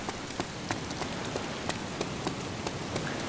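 Rain falls in the DayZ video game, a steady soft hiss of drops on surfaces with faint periodic pattering, heard alone at low level.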